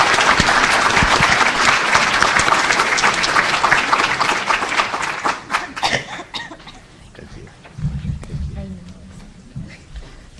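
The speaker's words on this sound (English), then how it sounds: "Round of applause for our student panel." Audience applause for a student panel at a college summit, loud dense clapping that thins into scattered claps and a cough after about six seconds, followed by a low voice near the end.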